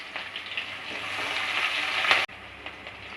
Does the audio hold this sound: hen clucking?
no